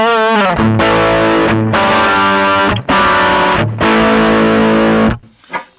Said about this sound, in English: Okay, here is the sound of the amplifier by itself.